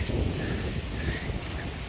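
Wind buffets across an outdoor garden near a chicken run, a continuous loud rumbling gust of microphone wind noise with no break.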